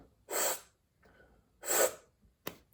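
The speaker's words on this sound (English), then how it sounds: "just take a small little gulp of air" Two quick, sharp inhaled gulps of air, taken to practise diaphragm breathing for false cord vocals, with a shorter third intake at the end. Close and breathy, separated by near silence.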